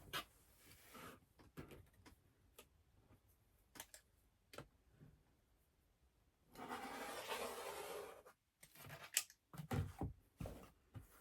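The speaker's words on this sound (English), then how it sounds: "we're going to cut on that line that we last drew" Scissors cut quilt fabric along a drawn diagonal line: scattered sharp snips and ticks up close, then a longer rustling stretch of cloth being handled, with no talk.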